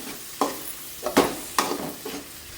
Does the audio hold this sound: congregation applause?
no